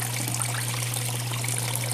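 Steady rushing water runs over a Gold Hog sluice mat on a Miller table during gold prospecting in Uwharrie National Forest, a continuous close trickle and splash with a constant low electrical hum underneath.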